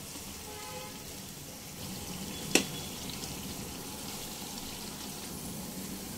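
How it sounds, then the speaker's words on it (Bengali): Onions frying in hot oil on a high flame give a steady, close sizzle throughout, with one sharp crackle partway through and no voices. "প্রথম কয়েক মিনিট হাই ফ্লেমে পেঁয়াজ ফ্রাই হতে দেব।"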